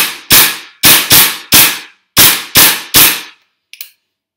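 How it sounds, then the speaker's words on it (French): An Inokatsu M4 gas blowback airsoft rifle firing semi-auto, loaded with gas and CreaSoft BBs. Six loud, sharp, evenly spaced cracks with a hard bolt clack come up close, followed by a small faint click after the last shot. "M4 Inokatsu. Ok, ça commence en semi."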